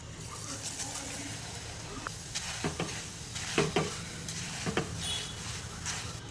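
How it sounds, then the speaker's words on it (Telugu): Half a cup of flattened rice fries in hot oil for a chana dal mixture, with a soft steady sizzle and scattered light stirring clicks, and a voice talking over it. "ఇంకో 1/2 కప్ అటుకులను కూడా ఫ్రై చేసుకుందామండి."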